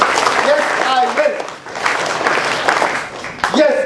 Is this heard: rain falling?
no